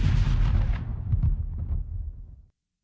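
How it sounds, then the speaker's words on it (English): A deep booming explosion sound effect, loud and close, opens with a strong blast and rumbles away over about two seconds before cutting off. "I need an explosion right there."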